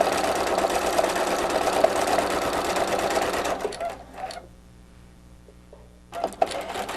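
Sewing machine stitching leaflet veins with solid dark green thread, a fast steady mechanical whir that stops for about two seconds, then starts again, close up with no talking.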